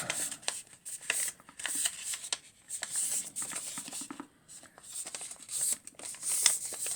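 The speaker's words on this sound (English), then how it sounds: "Just fold that over, take the bottom half, fold it up," A paper banknote is folded and creased into an origami taffy-wrapper shape, making soft, close rustles and sharp little crinkles in quick bursts, all very quiet.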